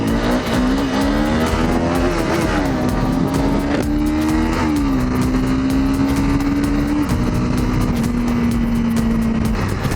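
A car on a coastal road accelerates past a Honda CBR 250R motorcycle. Its engine note rises and shifts steadily for the whole stretch, loud and close, under constant wind and road noise with no talk.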